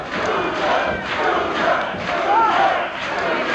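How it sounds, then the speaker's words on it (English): A wrestling arena crowd chants in a loud, rhythmic roar that swells and dips in regular pulses, heard close and continuous throughout. "The crowd begins that chant again."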